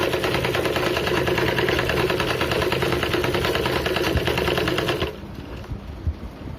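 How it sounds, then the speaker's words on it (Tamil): Sewing machine stitching along the edge of blouse fabric, a fast steady mechanical whir held for about five seconds, then stopping and leaving quiet background. "துணியோட ஓரமாக போடுங்க படிமான தையல்."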